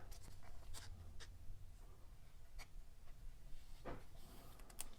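A trading card slides into a plastic card sleeve with soft, papery scraping and light ticks, the faint rustle running steadily against a low background hum.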